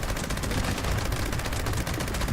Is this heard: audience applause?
no